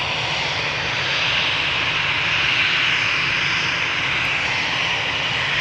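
An airliner climbing away from Amsterdam Schiphol Airport roars with a steady, broad engine rush that holds loud and even throughout, with no talking.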